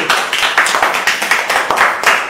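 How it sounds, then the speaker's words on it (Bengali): A small group claps loudly and rhythmically together in a fast, close, even beat, filling the short stretch with no talking. "কাকুর জন্য সবাই জোরে হাত তালি"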